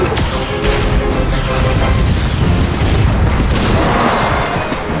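A cartoon Tiger tank's powerful cannon firing, a loud, dense rumbling boom with sustained explosive roar filling the whole stretch, no voices over it.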